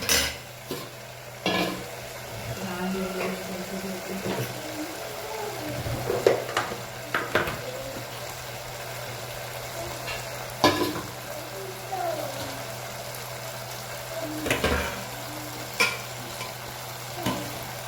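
Masala sizzling and frying in a pan over a full gas flame while being stirred, with repeated scrapes and clinks of a spoon against the pan over a steady hiss, no talking.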